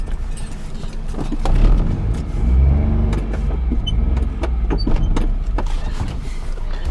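A Maruti 800 car manoeuvres into a tight parking spot, its small engine idling steadily and close with a low rumble, accompanied by faint mechanical clicks and shifting noises.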